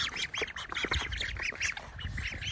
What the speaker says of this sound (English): These are my ducks.